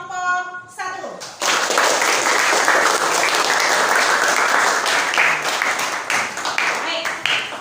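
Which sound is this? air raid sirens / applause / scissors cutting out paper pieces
applause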